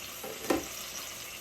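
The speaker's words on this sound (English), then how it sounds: "they're sizzling away" Cheeseburger patties sizzle in a pan, giving a steady close frying hiss with a brief louder crackle partway through.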